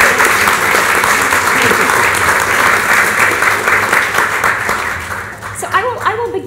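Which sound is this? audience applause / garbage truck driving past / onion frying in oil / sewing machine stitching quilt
audience applause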